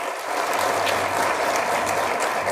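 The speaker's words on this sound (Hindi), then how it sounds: "इसलिए इन सब के लिए जोरदार ताली होनी चाहिए।" A crowd at a political speech on reservation rights claps loudly, dense, continuous applause that swells and keeps going without pause.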